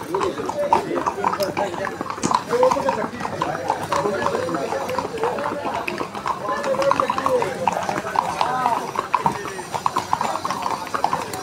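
A horse walks along a path at the Matheran hill station, hooves clip-clopping in a steady close rhythm, while people talk over it.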